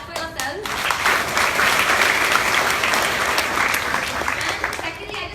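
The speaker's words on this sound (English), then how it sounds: "clap for yourselves." An audience bursts into sustained applause at a self-defence talk, dense clapping swelling after a brief start and holding strong throughout, with no voices over it.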